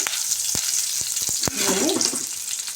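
Cumin seeds and curry leaves frying in hot oil in a pan, giving a steady, close sizzle with a few sharp pops and a short stirring scrape, with no talk.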